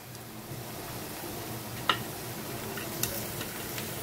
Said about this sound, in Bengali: এখন আমি এই রসুন আর কাঁচা লঙ্কাটাকেও পেঁয়াজের সাথে খুব ভালো করে একটু ভেজে নেব।